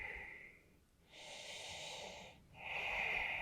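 Slow, deep breaths drawn in during a yoga stretch, a faint airy inhale followed by a longer steady exhale and another rising breath, close and without talk.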